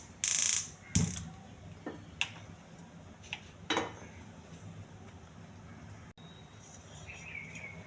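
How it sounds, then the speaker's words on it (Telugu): A gas stove being lit with a few sharp mechanical clicks and a short burst of noise, followed by a pan clattering onto the burner and a few lighter knocks, in a home kitchen where potato fry is being cooked. "స్టవ్ వెలిగించి పెనం పెట్టుకోవాలండి"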